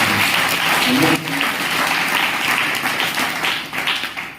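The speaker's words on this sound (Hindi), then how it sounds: "ताली बजा के परमेश्वर को धन्यवाद" A church congregation in a worship hall claps to give thanks, a full, loud burst of applause that fades gradually toward the end, with a voice briefly heard under the clapping.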